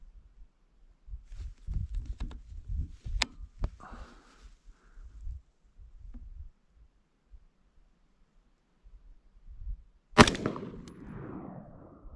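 An AR rifle from Rock River Arms with a 20-inch heavy barrel fires a round at an outdoor range: one loud sharp report near the end, with earlier handling and movement noises.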